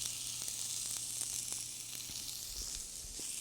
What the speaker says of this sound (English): While we have zucchini on skillet